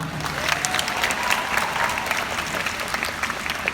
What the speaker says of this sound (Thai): ขอเสียงปรบมือให้กับทีม OB ด้วยครับ